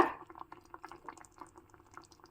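A masala mixture bubbles in a cooking pot on a home stove, soft irregular pops and gurgles at a gentle rolling boil, faint and close, alone without voices.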